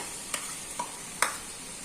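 Onion, garlic and chilli paste sizzling softly in a pan, with three sharp clinks of a spoon against the pan over a faint, steady frying hiss, quiet and without voices.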